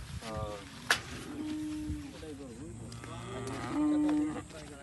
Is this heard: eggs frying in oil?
no